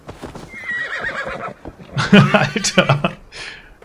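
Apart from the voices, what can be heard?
horse neighing in a video game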